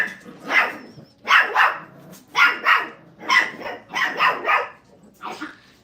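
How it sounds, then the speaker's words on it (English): Five-week-old puppies bark in a kennel crate in a quick series of high, yappy bursts, several voices overlapping in an uneven rhythm, close and fairly loud. "They got to practice their barking."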